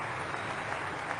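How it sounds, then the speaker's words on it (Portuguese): Audience applause at a speech by President Trump, a steady continuous wash of clapping from a large crowd, fairly faint and distant, with no talk over it. "Vamos ouvir uma salva de aplausos."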